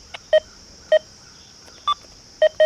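A Deus 2 metal detector set to the sensitive FT program gives five short, clear electronic beeps at irregular intervals, with no other sound around them.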